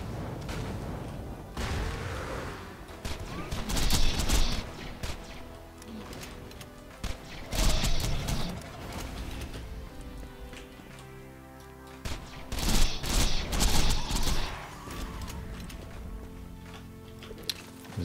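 Rapid gunfire from a minigun in the video game Borderlands, heard as dense bursts of rattling shots that come in waves over a busy, loud game soundscape full of impacts.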